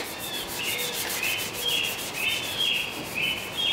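Rhythmic back-and-forth scuff sanding on the surface of a Cruise Craft boat before painting, close and steady, with repeated rasping strokes roughly every half second and no voices.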